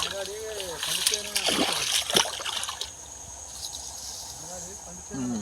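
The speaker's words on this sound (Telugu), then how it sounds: "ఇవాళైతే నీళ్ళు తీస్తున్నాం అంటే ఇక మాగాడికి నీళ్ళు అవసరం లేదు." Water drawn off a flooded paddy field, splashing and sloshing steadily nearby as it drains away, with voices talking briefly at the start and end.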